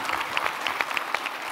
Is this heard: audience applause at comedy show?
yes